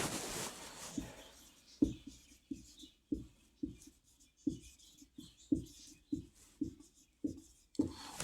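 Chalk taps and strokes on a classroom board during a semiconductor lecture, a steady series of short, crisp knocks and scrapes repeating roughly every half second, close and fairly quiet with no talking.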